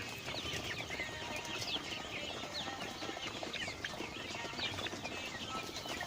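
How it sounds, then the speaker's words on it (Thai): Many eight-week-old Hy-Line Brown laying hens cluck and chatter together in a busy, continuous murmur, with occasional sharper squawks rising over the steady flock noise. "ไก่ไข่แปดสัปดาห์"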